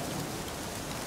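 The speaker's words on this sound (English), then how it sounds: "And it's raining." Steady, dense rain falls at night in The Witcher 3: Wild Hunt, a continuous even hiss of drops with no other sounds.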